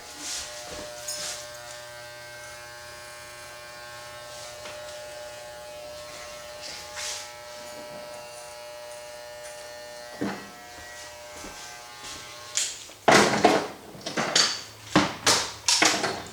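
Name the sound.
electric hair clippers shaving a haircut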